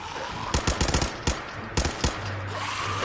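Video-game gunfire in Fallout 4: a quick burst of several sharp shots followed by a few more scattered reports, loud and close over a steady low game-ambience hum, with no talking.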